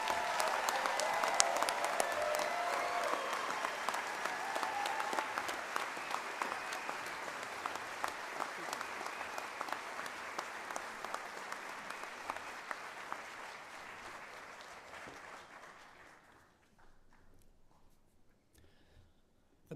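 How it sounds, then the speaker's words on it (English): Sustained applause from an audience honoring graduates of a MedTech innovation and entrepreneurship master's program, dense and steady for about fifteen seconds before thinning and fading out. "Let's give them all one final round of applause."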